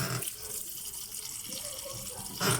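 Water runs from a tap into a vessel while fish is being cooked outdoors, with a soft, steady trickle that swells into a louder splash near the end, alone and fairly close.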